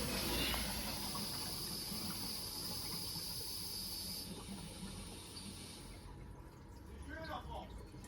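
Water being forced out of home heating pipes, a steady faint hiss with a gurgling rush that drops away after about six seconds, with brief voices in the background.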